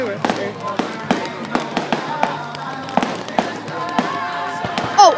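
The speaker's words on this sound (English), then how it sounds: "Oh, two big ones at the same time." Big Fourth of July fireworks thump and crack in a string of distinct, fairly loud bursts, a pair hitting almost together, as excited voices talk throughout.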